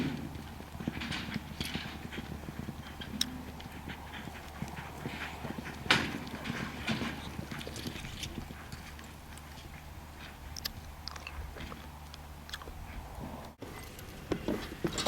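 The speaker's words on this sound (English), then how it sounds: "really make this horse run through the corner and really make him stay with the steer" A roping horse runs after a steer in practice, its hooves drumming in a quick, steady clip-clop across the ground, moderately faint and continuous, with no talking.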